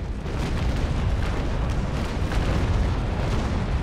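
Rolling cannon broadside from a sailing warship firing 37 guns per side in the naval battle game Naval Action, a continuous heavy rumble of overlapping booms that stays loud throughout.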